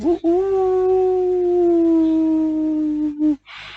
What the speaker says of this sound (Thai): มีเสียงสุนัขเห่าอย่างคุ้มครั่งดังมาจากป่าสนที่อยู่ไกลลิบ